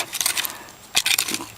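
Small broken glass shards clink and rattle in loose dug-up soil at a metal detecting site, giving a few bright, brief jangles close by with quiet pauses between them.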